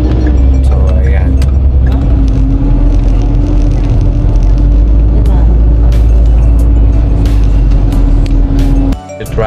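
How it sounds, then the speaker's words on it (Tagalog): Car engines idling and creeping in slow road traffic, a continuous low droning hum heard from inside a vehicle, with brief clicks and a voice talking over it. "So, habang traffic"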